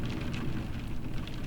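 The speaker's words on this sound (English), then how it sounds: "Surrounded by the pounding of rain." Heavy rain pounds down in a dense, continuous hiss and patter, with no breaks and no other sounds above it.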